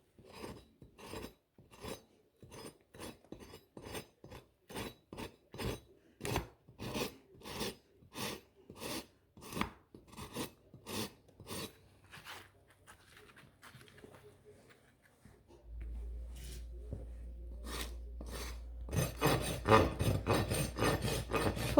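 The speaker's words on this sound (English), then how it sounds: "Angle of your rasp is important." A farrier's rasp files a horse hoof in a steady run of loud, rhythmic strokes, each a short rough scrape; the strokes thin out midway, then a low steady hum sets in under the final few rasps.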